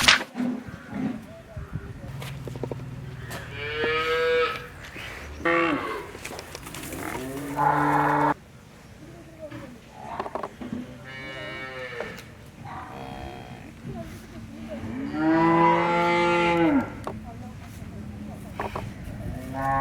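Dairy cows at a large cattle farm in Palakkad moo loudly several times, long drawn-out calls rising and falling, with a couple of nearer bellows standing out over faint background noise and brief stretches of quiet.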